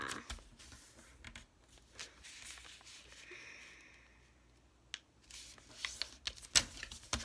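Paper is creased and flipped close up while a paper dart airplane is being folded. Soft rustles and crisp folding snaps come through quietly, with a few sharper crackles toward the end.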